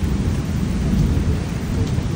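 Heavy rain pours steadily over an outdoor shoot location, with a low rumble of thunder rolling beneath the constant hiss. No voices can be heard.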